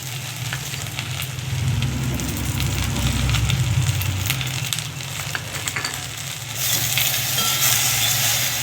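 Okra frying in hot oil with turmeric added, a steady close sizzle and crackle with occasional stirring scrapes, loud and continuous throughout with no talking.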